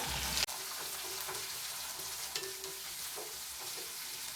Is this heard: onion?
yes